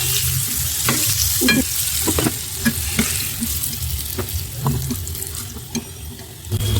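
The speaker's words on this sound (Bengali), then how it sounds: "একইভাবে মাংসগুলো ভাজা হয়ে গিয়েছে লাল ব্রাউন কালার চলে এসেছে" Chicken pieces frying in hot oil and being stirred, loud continuous sizzling broken by repeated scraping and clattering strokes of a utensil in the pan, with no voices.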